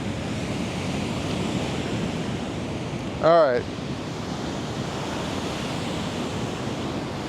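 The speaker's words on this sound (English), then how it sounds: "I feel like I could get gobbled up by this ocean here" Ocean surf rolls and washes onto the shore in a steady, broad roar throughout, with wind noise on the microphone; a person briefly speaks near the middle over the waves.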